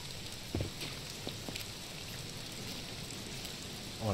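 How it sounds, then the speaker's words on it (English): Heavy torrential rain in the SCUM survival video game, a steady dense hiss of downpour with a few faint knocks and a brief low thump near the end, no talking. "You making me go out here and get this in this torrential downpour?"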